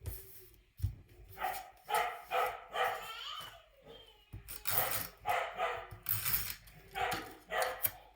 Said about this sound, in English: that would be my dog and my child in the background